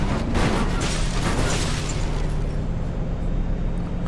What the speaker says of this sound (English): I heard a bit of breakage in there.